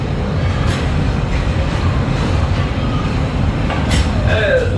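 Walt Disney World railroad train rolling into Frontierland Station, a steady loud rumble of wheels and cars with faint squeals, people chattering in the background throughout.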